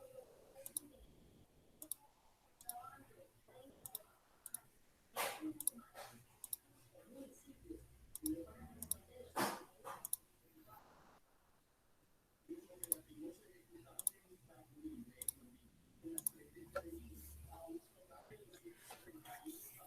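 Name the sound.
computer mouse clicking while connecting a circuit in a simulator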